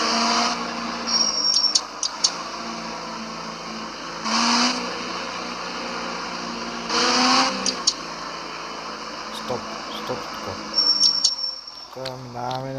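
Car accelerating in the driving video game School Driving 3D, an engine drone that swells in several revving surges amid steady background tones and short beeps.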